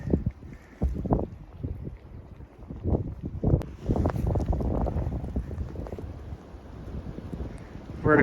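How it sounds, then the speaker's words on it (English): Strong winter wind gusts buffet the microphone outdoors near a farm, a heavy low rumble rising and falling in uneven bursts throughout. "The wind is the worst."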